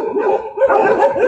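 Several dogs barking loudly and close by in a dense, overlapping burst of barks and yips, with no pauses.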